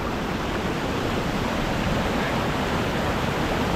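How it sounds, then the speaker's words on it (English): Rhiwargor Waterfall pours in a steady, dense roar of rushing water, constant and fairly loud throughout with no voices. "Waterfall."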